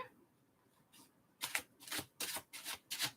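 Tarot cards shuffled in a string of quick papery riffles, about five crisp bursts close to the mic following a soft rustle, with a quiet room between them.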